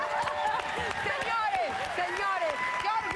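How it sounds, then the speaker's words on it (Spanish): Studio audience on a Spanish-language variety show breaks into dense applause and cheering, a busy wash of claps with a voice ringing over the crowd. "¡Aplausos!"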